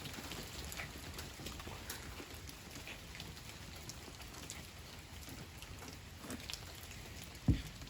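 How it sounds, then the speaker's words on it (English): Rain patters outside with a soft, steady hiss and scattered drops, faint throughout, ending with one brief louder knock. "So please excuse the rain noises"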